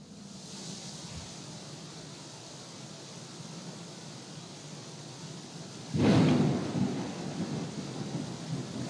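A thunderstorm with rain at sea in the crab-fishing game Deadliest Catch: a steady rain hiss throughout, with one deep thunder crack and rumble breaking in partway and rolling on.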